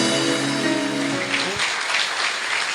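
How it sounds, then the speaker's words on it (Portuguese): A church congregation claps in praise during a worship service. Sustained tones fade after the first second and a half, and broad, even applause carries on to the end. "E pode aplaudir ao Senhor"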